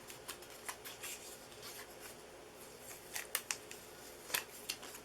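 Paper for a Halloween treat box runs through a die cutting machine, heard close and quiet as a series of irregular crisp clicks and snaps over a soft steady hiss, with no talking.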